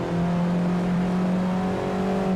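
Race car in a VR racing game on the Gunsai touge mountain road accelerating hard, a steady loud engine whine holding a strong droning pitch with no talk.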